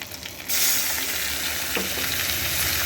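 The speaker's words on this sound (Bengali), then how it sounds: "এবারে আমি এর মধ্যে দিয়ে দিচ্ছি সেদ্ধ করা ডালটা" Boiled lentils poured into a pan over a crisply fried hilsa fish head, the hot oil jumping from a quieter fry into a louder, steady close sizzle that carries on with a faint stir mid-way.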